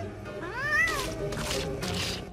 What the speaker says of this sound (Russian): Это у Микки кошка-мутант из мороженого